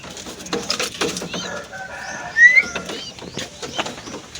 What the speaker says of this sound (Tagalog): Yan mga kalapatids.